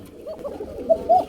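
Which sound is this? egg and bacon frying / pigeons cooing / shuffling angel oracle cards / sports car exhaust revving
pigeons cooing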